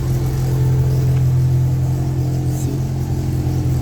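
A Peugeot 205 GTI race car engine held at high revs near an 8,600 rpm limiter, a steady loud mid-pitched drone with strong harmonics and no talk over it.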